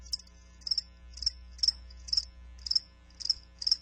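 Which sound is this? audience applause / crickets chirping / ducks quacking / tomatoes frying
crickets chirping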